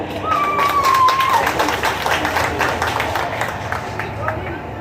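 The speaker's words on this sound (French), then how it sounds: "Je vous demande d'applaudir chaleureusement notre ministre de la Culture" Crowd applause for a minister of culture at a school ceremony in Cap-Haïtien, steady clapping with a murmur of voices and a brief tonal whistle early on.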